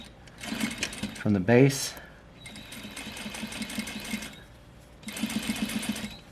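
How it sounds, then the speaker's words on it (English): A sewing machine stitching a fly front zipper 1/16 inch from the edge: two bursts of rapid, steady mechanical whirring, near and clear, separated by a short pause, with someone talking briefly between and over them. "I'm going to sew a 1/16 of an inch away from the edge"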